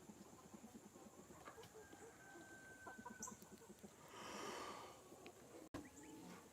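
Hens clucking in a pen in Georgia, a steady busy chorus of short clucks with an occasional louder call, heard close and without talk.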